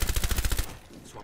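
A rapid burst of about ten automatic gunshots in a tactical shooter game, loud and close, firing at an enemy in a window before stopping abruptly.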